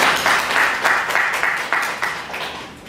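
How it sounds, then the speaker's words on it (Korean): An audience at a citizens' consumer forum in Incheon gives a round of applause, steady clapping from a room of people that swells in pulses and gradually fades. "그런 의미로 박수 한번 보내실까요?"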